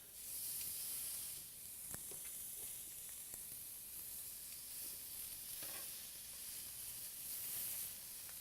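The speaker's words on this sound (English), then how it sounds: "That's the sear you want to hear." Fish fillets searing in a hot pan give a steady, close sizzle with bright hiss, broken by a few soft clicks and scrapes of handling, with no talk.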